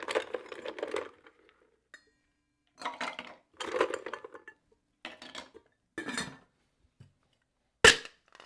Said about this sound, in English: throw a couple cubes in our glass.